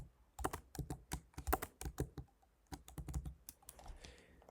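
Rapid clicks of keys on a computer keyboard as a domain name is entered, a fairly close, uneven burst of keystrokes that trails off near the end.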